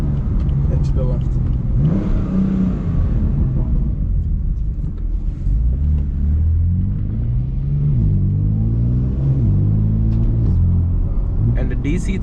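A BMW F80 M3 CS with a DCT gearbox revs hard while driving, its engine rising and falling in loud, close pulls through shifts, with someone talking over the cabin rumble.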